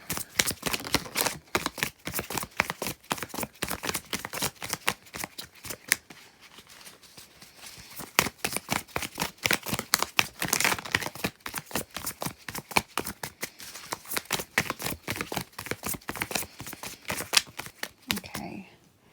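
A deck of tarot cards is shuffled close up in a long, rapid run of crisp riffling flicks, pausing briefly midway before continuing.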